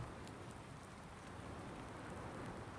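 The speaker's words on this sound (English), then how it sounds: "I'll see you when this rain's gone." Steady rain falls in Farming Simulator 19, a soft, even hiss of drops that stays constant and fairly faint throughout, with no talking.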